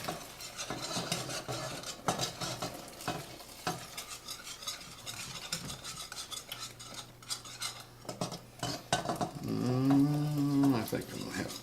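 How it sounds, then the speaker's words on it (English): Warm milk being poured slowly into a pot for mac and cheese while a utensil stirs and scrapes, producing irregular clinks and swishes, with a brief tonal groan near the end. "I'm going to add this slowly while I stir"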